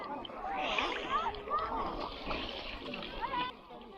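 Children splash water at kayakers on a river, producing continuous busy splashing and sloshing close by, with children's voices and chatter running throughout.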